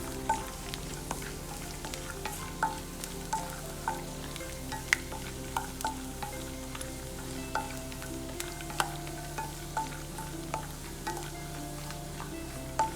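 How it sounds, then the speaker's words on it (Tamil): Cashews and almonds frying in ghee in a pan give a steady, close sizzle with frequent small pops and crackles, punctuated by regular stirring clinks throughout, with no talking. "இப்போ ஒரு பேனில் நெய் விட்டுட்டு முந்திரி பாதாமை ஃப்ரை பண்ணிக்கலாம்."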